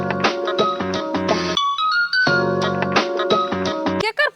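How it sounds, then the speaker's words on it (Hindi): A mobile phone ringtone plays loudly and alone in a home, a repeating melodic electronic tune with a brief pause mid-clip before the pattern resumes. "केकर फोन हब माय?"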